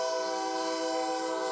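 A train on the High Plains sounds its horn in one steady, loud chord that holds unbroken throughout, with no voices.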